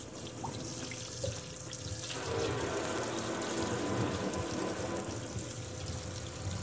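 Tap water running into a sink during a rust removal restoration of a barber chair, a continuous hissing flow that swells louder midway and then eases slightly.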